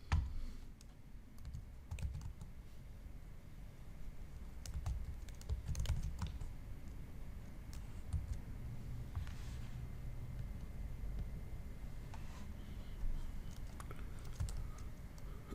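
Steady typing on a computer keyboard as a command is entered at a terminal, with dense, continuous key clicks and occasional louder strokes over a low background hum.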